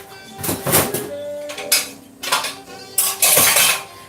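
Dishes, pots and cutlery left over from the night before being put away in a kitchen, loud close clattering and clinking in several separate bursts with short pauses between.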